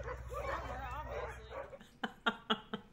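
Young puppies on their first walk in the snow yip and whimper, with a run of soft, whiny vocal sounds under a voice, then several sharp, short yips spaced near the end.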